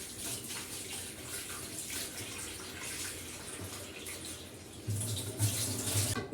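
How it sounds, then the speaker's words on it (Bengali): Tap water runs steadily while raw meat is washed in a kitchen, a continuous close splashing gush that swells louder near the end. "মাংসটা এখন ধুয়ে নেই একটু"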